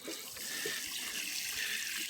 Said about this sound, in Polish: I na koniec po zasypaniu dołka obficie podlewane.